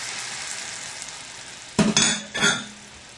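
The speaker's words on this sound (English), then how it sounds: "I'm going to stir in the wine" Red onions cooking in a pan with dry red wine and balsamic vinegar, a steady soft sizzle broken near the end by two louder bursts of spoon stirring and scraping.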